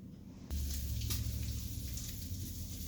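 Crab cakes frying in a pan on the stove: a steady, close sizzle with soft crackling pops that starts abruptly and continues without talk.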